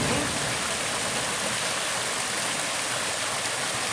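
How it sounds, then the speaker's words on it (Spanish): A stream flows near a village road in Oaxaca, Mexico, making a steady, close rushing and splashing of water that runs unbroken from start to finish with no voices over it. "Qué bonito arroyo."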